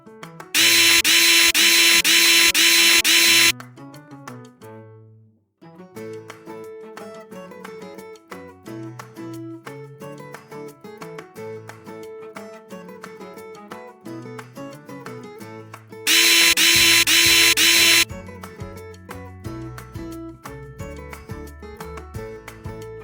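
A power screwdriver whirs in two loud bursts as screws come out of the outer casing of a NovaStar TB30 unit, with metallic rattling and clicks of handling between them, close up.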